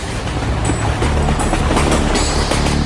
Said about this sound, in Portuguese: Trens passam por todo o campo.